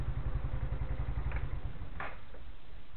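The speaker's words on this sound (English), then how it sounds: "This is my tractor." A small tractor engine chugs at a steady, fast idle close by, its rhythmic low putter fading out toward the end with a couple of faint clicks.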